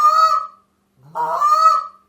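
Two drawn-out honks from a short reed honker call mimic a Canada goose, loud and near, with a full second of quiet between them and a throaty break opening the second.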